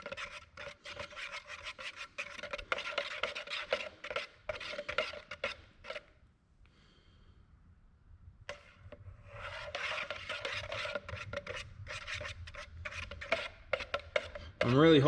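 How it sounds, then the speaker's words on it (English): A stir stick scrapes and swishes around inside a can of paint in steady raspy strokes, pausing briefly midway before the rough rubbing resumes. "Got my nice stir stick here. And I can't feel anything at the bottom, but I'm still just gonna give it a nice good stir here."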